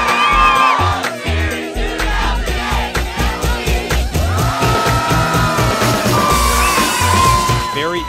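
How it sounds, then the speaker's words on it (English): An enthusiastic crowd at a Flow Series Tour 2008 FlowRider competition cheers, whoops and yells loudly and continuously, with occasional bangs and shouts rising above the steady roar. "Very enthusiastic crowd"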